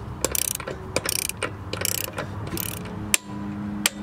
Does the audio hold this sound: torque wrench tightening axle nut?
yes